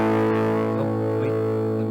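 A heavily distorted electric guitar rings out as one thick sustained chord, loud and steady from start to finish, with no voices.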